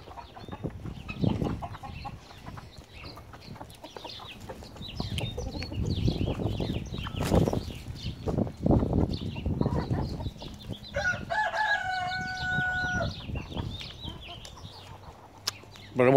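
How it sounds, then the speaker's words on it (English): Chickens cluck and call around a greenhouse cellar, with repeated close bursts of fowl chatter over a steady farmyard background and a brief clear whistle-like tone partway through. "The chickens love the greens."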